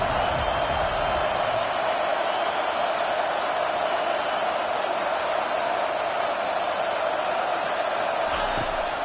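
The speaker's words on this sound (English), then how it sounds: "Here comes his home crowd as the defense tries to get off the field on 3rd down." A home crowd roars steadily in a college football video game as the defense tries to get off the field on third down, a dense, sustained stadium wash with a commentator talking over it.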